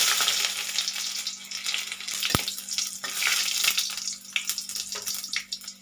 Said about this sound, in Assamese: এতিয়া তেলখিনি গৰম হৈ গৈছে, পাঁচফোৰণ দি দিছোঁ।